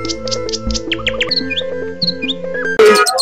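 Caged birds at the Tongi bird market chirp and tweet in quick overlapping calls over a steady hum, close and loud, ending in a sudden burst of louder noise.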